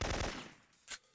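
Enemy automatic fire in the Syphon Filter video game, a short loud burst that quickly fades, followed by one more brief crack.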